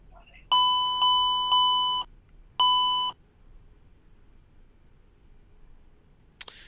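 A Q400 cockpit alert in the X-Plane 10 flight simulator sounds loud electronic beeps, three in quick succession and a fourth after a short pause, then quiet follows with a faint click at the end.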